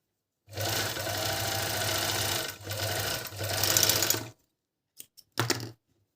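A Dragonfly GN1-114D four-thread overlock sewing machine runs fast stitching chiffon, a loud continuous whirring burst of about four seconds with brief dips, then a few short stop-start runs near the end.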